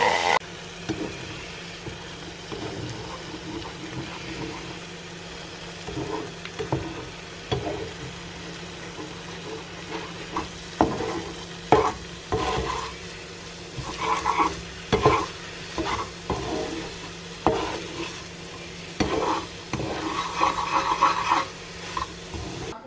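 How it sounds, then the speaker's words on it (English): Bacon and onions frying in a pan give off a steady sizzle for over twenty seconds, broken by frequent scraping and stirring knocks that grow busier toward the end. Nobody speaks. "My bacon and my onions are cooking."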